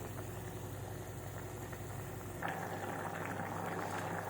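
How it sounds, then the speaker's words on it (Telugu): Tomato dal of lentils bubbling in a pot, a steady low simmering burble that grows slightly fuller partway through, with no voices. "పది నిమిషాలు ఉడుకుతుంది పప్పు మంచిగా ఉడుకుతుంది టమాటా పప్పు"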